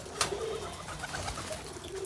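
Pet pigeons, around seventeen or eighteen, coo softly and repeatedly close by while being fed, low burbling calls over a faint background hum, with a small click early on.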